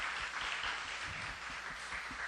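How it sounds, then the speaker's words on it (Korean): Applause from a church congregation at a Friday night worship service, a steady, dense wash of many hands clapping together, moderately distant and filling the room without pause. "잠깐 일어나시면 저희가 박수로 축복하고 격려하겠습니다"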